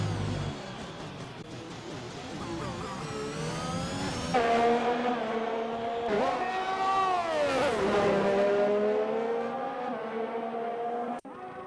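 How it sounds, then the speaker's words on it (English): Race car engine screaming at full speed in a racing video game on a Shanghai-style circuit, rising and falling through gear changes and revs, loud and close with no talking over it. "Car's hitting 200 miles per hour."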